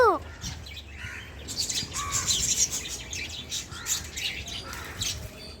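Outdoor bird calls, apparently a crow near a rooftop terrace, sound as scattered chirps and squawks at moderate distance over steady background hiss, with a few faint calls rising through the clip.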